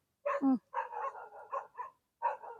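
Dogs barking outdoors at a rural Thai home during moringa picking: a string of close, fairly loud barks and yips arriving in quick clusters, then a short pause before another bark.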